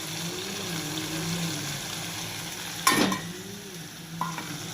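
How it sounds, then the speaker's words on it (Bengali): Tomato, onion, ginger-garlic paste, chili powder and turmeric fry in a wok (karai), a soft steady sizzle with scraping stirs of a spatula and a sharp clatter midway. "প্রথমে কড়াইতে টমেটো আর পেঁয়াজটা দিয়ে একটু ভাজা করে নিচ্ছি।"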